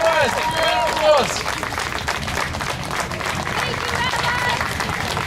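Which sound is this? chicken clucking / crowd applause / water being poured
crowd applause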